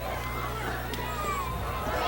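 Football crowd noise from fans on their feet in the stands at a Brewer Witches versus Belfast Lions game, a steady dense roar of voices and chatter with a commentator talking over it.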